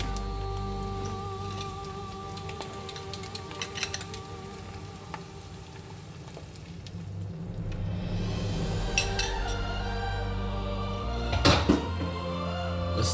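Eggs drop into a hot breakfast pan after a few light clinks of utensils, and a steady rain-like sizzle rises and holds, with a sharp clatter near the end.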